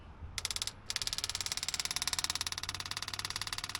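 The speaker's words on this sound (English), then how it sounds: "Let's see if we can pull gas with this electric fuel pump into the pump here" A small electric fuel pump on a 1964 International Harvester Travelall buzzes steadily with a rapid pulsing rhythm, briefly cutting out once near the start before running continuously, close up.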